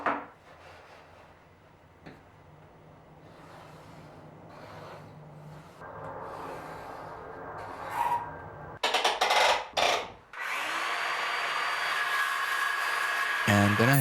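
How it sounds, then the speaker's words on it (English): A circular saw cuts a black top plate, the shortened piece trimmed to an angle transferred from a room corner; the cut comes as a loud, sustained broadband roar in the last few seconds, preceded by brief bursts and quieter handling noise. "shortened it with a circular saw"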